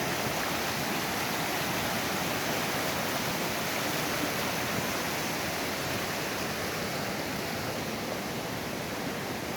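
The Kaslo River flows past in a steady, dense rushing hiss that stays loud and unbroken throughout, with no other sounds standing out.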